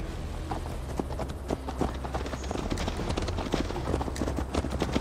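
A horse gallops in Assassin's Creed Valhalla, hooves clip-clopping in a steady fast rhythm close by over a low rumbling background, with no voices heard.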